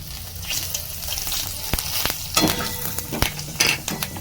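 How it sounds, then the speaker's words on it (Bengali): Cumin seeds sizzle in hot oil, a steady loud crackle with sharp pops and faint clinks of a spoon or pan, no voices. "এবার আমি এই তেলের মধ্যে জিরে দেব আর আলুগুলোকে ভেজে নেব"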